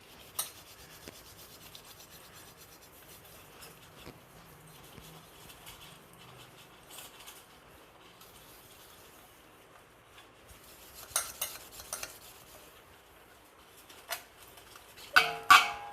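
Light scrubbing of a burnt cooking pot with an ordinary dish scrubber and little pressure gives a faint, steady rasping rub, with a few louder scraping strokes near the end.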